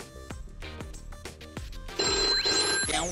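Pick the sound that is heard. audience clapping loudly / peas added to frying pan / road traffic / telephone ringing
telephone ringing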